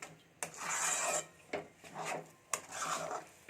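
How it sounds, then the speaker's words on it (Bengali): Semolina and powdered sugar are stirred together in a bowl for suji barfi, producing three close, repeated gritty scraping strokes with short pauses between them, no talking. "চিনি গুঁড়োটা দিয়ে একটু ভালোভাবে মিশিয়ে নিচ্ছি"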